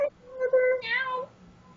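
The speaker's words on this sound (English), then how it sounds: "I've got a cat wanting to say hello to you." A house cat meows in one drawn-out, rising-then-falling call, close and fairly loud, with a brief pause before a second higher vocal section, heard on its own with no talk over it.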